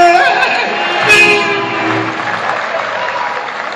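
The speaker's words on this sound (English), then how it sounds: "Give yourself a round of applause." A crowd backstage at a concert applauds and cheers loudly, broad clapping and voices swelling at first and then settling into a continuous, slightly fading roar.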